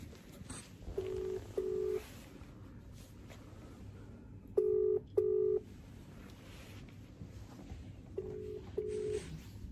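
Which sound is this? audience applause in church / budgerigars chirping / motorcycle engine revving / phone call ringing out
phone call ringing out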